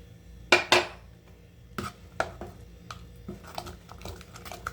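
Kulfi milk with almond powder being stirred in a pot, with two sharp metal clinks of spoon against pot early on, then softer scraping taps and light knocks at a moderate, close level.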